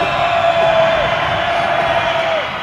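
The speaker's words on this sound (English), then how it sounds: "Crowd making noise for Jason Ward" Crowd noise swells in a gym during a boys high school basketball game between Vandegrift and Round Rock, a sustained roar of cheering and shouting with a whistle-like tone rising through it.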